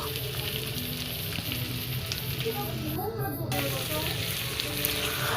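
Boiled potatoes fry in oil with onion, a constant, dense sizzling crackle that stays even throughout, with faint stirring movement beneath it.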